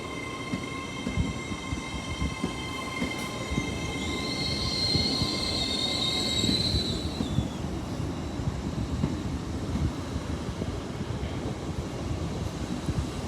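An Avanti West Coast Class 805 nine-car train rolls to a stop at Moat Hills level crossing, a steady rumble of wheels with a rising metallic brake squeal in the middle that fades as it halts, loud and close, no talk.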